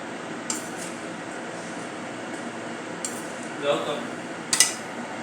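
A spoon scrapes and clinks now and then against a bowl as dates are mixed into a dink laddu mixture, with a few sharper taps standing out over a quiet, steady background.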